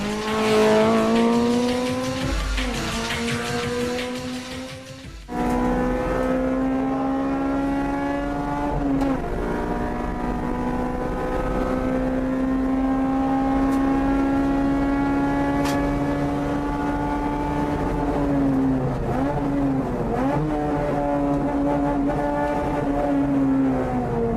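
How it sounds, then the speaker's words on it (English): A Spoon Sports Group N Honda Integra Type R race car howls at high revs, its engine note climbing and resetting through several gear changes, loud and close with no talk. "is a Group N Racing Integra R built by Spoon Sports"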